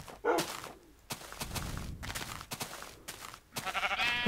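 Sheep bleats in the Minecraft video game, several short calls spread across the clip with soft thumps in between, a louder harmonic bleat rising at the end.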